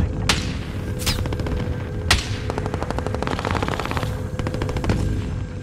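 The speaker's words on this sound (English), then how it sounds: "I'm under fire." Rapid automatic gunfire in a first-person shooter game, with dense sustained bursts of machine-gun fire punctuated by a few sharper louder shots, continuous and close throughout with no talk.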